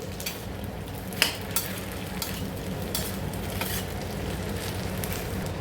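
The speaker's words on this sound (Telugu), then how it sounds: "సన్నగా కట్ చేసుకున్న కొత్తిమీర కూడా వేసుకొని బాగా మిక్స్ చేసుకోవాలి" Sabudana khichdi being mixed with peanut powder, lemon juice and chopped coriander in a pan over a medium flame makes a constant crackling sizzle, broken by a few sharp spoon knocks against the pan, all close and without speech.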